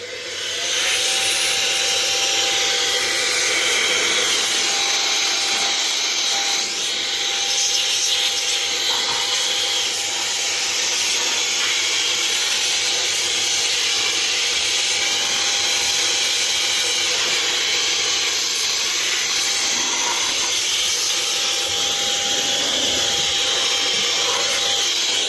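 Loud, steady rush of compressed air blasting over the belts and other areas of a Bambu Lab 3D printer during maintenance, a continuous hiss holding for the whole stretch with slight shifts in tone as the nozzle moves.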